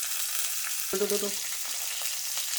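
Onion hits hot oil with mustard seeds in a pan and frying starts, giving a continuous close sizzle with a brief tonal clatter as it lands, while the bubbling stays steady.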